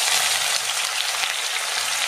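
Two large finely chopped onions fry in hot oil with fenugreek seeds for a coconut fish curry, giving a loud, steady, dense sizzle that stays constant throughout, with no voices.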